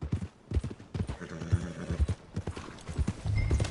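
Hooves of a horse in a video game clip-clop toward the stables in an uneven walking rhythm, close and fairly loud, with a brief whinny and snorting mixed in.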